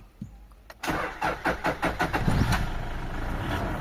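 A 2004 Toyota Innova with an automatic transmission and a lit check-engine light cranks briefly and starts, settling into a steady close idle with no talk.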